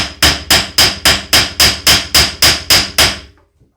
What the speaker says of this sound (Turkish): Bir şey demir dövüyoruz. Bir de ses olacak.